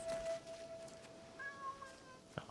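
Soft meowing of a cat in the Assassin's Creed Shadows video game, a drawn-out faint cry followed by a short second meow, quiet against low game ambience.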